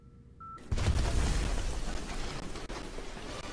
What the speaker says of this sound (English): Well, I thought that was going to be a bigger explosion.